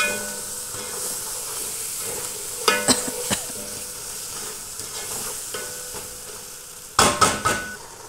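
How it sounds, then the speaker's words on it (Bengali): Powdered spices with cumin, coriander, turmeric and Maggi seasoning, plus salt, fry in oil in a pan as they are stirred, giving a steady soft sizzle broken by two short bursts of scraping stirs, with no one talking. "এখানে লবণও দিয়ে দিছি পরিমাণ মতন, একটু কষিয়ে নেব ভালো করে"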